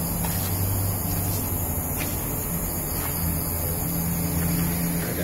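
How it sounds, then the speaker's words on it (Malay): Steady roar of traffic from a nearby highway beside an abandoned flat, a constant broadband rush of passing vehicles with a low engine hum underneath, moderately loud and unbroken, with no talking. "Keadaan agak bising sikit sebab kawasan ni pun bersebelahan dengan Lebuh Raya"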